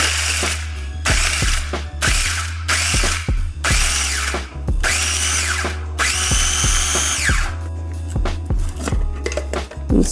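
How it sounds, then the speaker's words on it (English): A kitchen food processor or blender grinds vanilla wafers for banana pudding in loud repeated pulses, each a short whirring burst separated by brief pauses, with one longer run toward the end. "I'm gonna go ahead and grind up some of these wafers."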